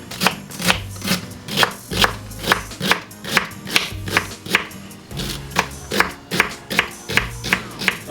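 Knife chopping through cabbage on a cutting board in a home kitchen: a steady run of sharp, close thuds at roughly two per second, each with a crisp crunch, alone with no talking.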